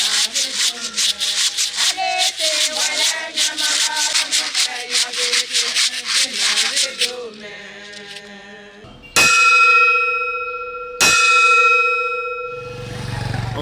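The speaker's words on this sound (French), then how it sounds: "Les cantiques s'exécutent en chœur avec des instruments traditionnels tels que la cloche et les" Traditional church instruments sound in rhythm: rapid rasping shakes of calabash rattles repeat for several seconds, followed by loud ringing strikes of a metal bell that sustain and decay.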